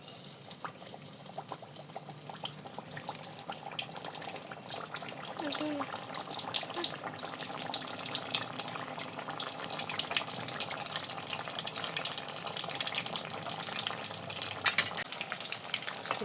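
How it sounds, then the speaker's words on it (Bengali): Potato egg buns fry in oil in a wok, a continuous crackling bubbling sizzle that grows a little louder after the first few seconds, with no voices. "এখন আমি ভেজে নেব, দেখতে থাকুন। কড়াইতে তেল দেওয়া হয়ে গেছে, এখানে যে বনগুলো ভেজে নেব, এই যে দিয়ে দেবো।"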